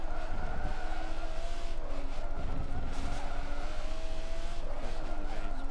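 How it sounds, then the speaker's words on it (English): A smooth, well-tuned race car engine in Forza 7 drones steadily and loudly at close range, holding a sustained tone with slight pitch shifts and some tire scrub throughout. "This sounds a very smooth car."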